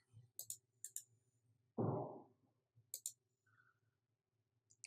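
Mouse clicking on a laptop while working in project-scheduling software, several quiet, crisp clicks, some in quick pairs, spread across a faint room background with one brief louder rustle in the middle.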